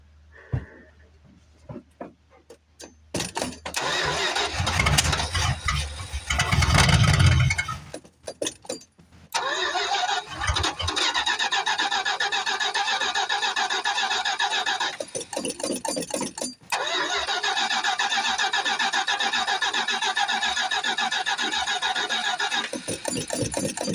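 A 1973 Plymouth Fury III cranks and fires after a few seconds of quiet, roars loudly, cuts out briefly, then catches again and keeps running at a rough, sputtering idle.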